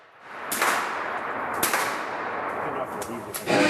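Gunfire from target shooting at a gun club cracks out in a few sharp, loud reports with ringing tails, followed by a quicker cluster of shots near the end.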